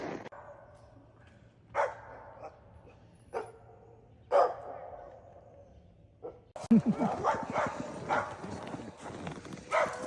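Several sled dogs bark and yip in short bursts with pauses, then a louder, busier stretch of overlapping barking and clatter near the end, with voices underneath.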